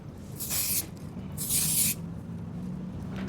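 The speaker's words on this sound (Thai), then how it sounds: "ใส่สเปรย์ไหม นิดนึงนะหลับตาไว้" Hair spray misted onto a customer's hair at a barber shop, two short close hissing bursts of the aerosol over quiet room background.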